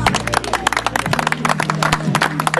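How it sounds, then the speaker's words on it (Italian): Audience clapping at an outdoor car tuning meet in Capriglia Irpina, a dense steady patter of many hands lasting a couple of seconds over a low hum from sound equipment. "Facciamo un applauso."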